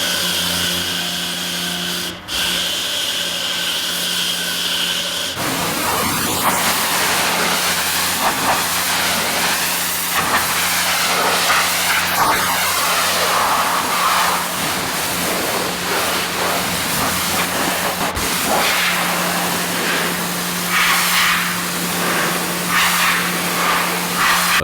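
Pressure washer spraying through a Mosmatic foam cannon nozzle while cleaning a filthy logging truck: a steady machine tone, then a sharp, loud continuous hiss of spray starting about five seconds in and running to the end.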